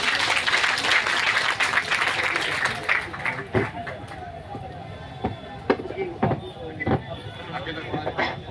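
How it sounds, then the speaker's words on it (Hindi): A crowd at a gathering in Jaipur bursts into loud, dense applause that thins into scattered claps, with voices and talking mixed in underneath. "तो एक बार जोरदार ताली बजा दीजिए हनुमान जी किसान के लिए।"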